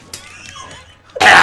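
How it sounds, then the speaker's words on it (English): Eggman coughing in Super Smash Bros. Ultimate, a short rough burst at the end after a quiet lead-in. "He coughs like a cat."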